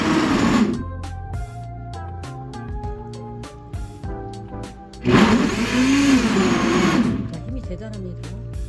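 A blender grinds a smoothie steadily with a high motor whine, surging louder partway through as the blades churn. There is no talking.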